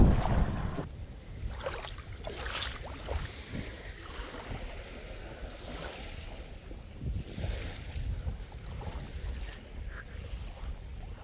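Small boat motor running on the sea near a private island, a faint steady drone mixed with water splashing and wind noise, with occasional louder splashes.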